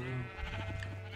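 A single Minecraft sheep on a sheep farm lets out a short, nasal bleat, fairly close and clear against a quiet game background.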